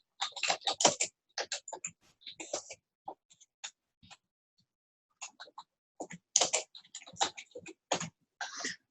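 Bursts of typing on a computer keyboard, rapid clusters of clicking keystrokes separated by short pauses, close and fairly quiet with no voices.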